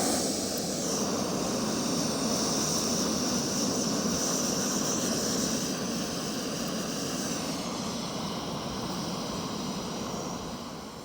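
A UST Trekker camping stove burner turned up high, giving a steady, loud roaring hiss that holds constant throughout with no pauses, close to the listener and alone.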